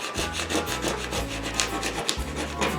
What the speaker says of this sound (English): you're just going to take a credit card